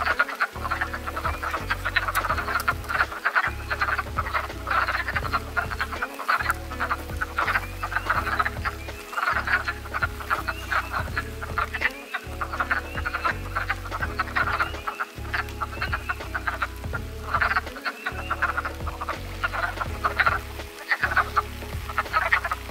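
A chorus of wood frogs calls at a breeding pool in western Pennsylvania during cold rain, a dense, continuous mass of clucking croaks heard with no talk.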